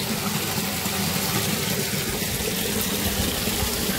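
Water runs from a pipe into storage drums, a steady, even rushing hiss that fills the whole stretch with no voices.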